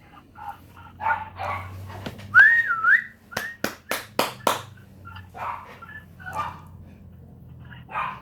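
A dog barking in a series of five sharp, loud woofs in quick succession, preceded by a sliding whistle and some softer indistinct sounds, all quite close.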